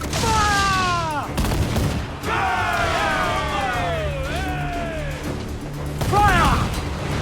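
Ship cannons fire in a naval battle in the video game Assassin's Creed IV: Black Flag, heavy booming volleys mixed with whistling, creaking effects and shouted voices, in repeated bursts.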